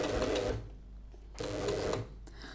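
A sewing machine stitching reflective piping into a finished garment runs in two short bursts of rapid, close mechanical whirring, separated by a brief pause.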